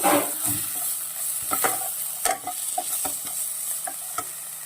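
A spoon stirs a spice mix of coriander powder, black pepper, turmeric and masala in a hot pan, with a soft continuous sizzle and repeated light scraping strokes, close up and without talk.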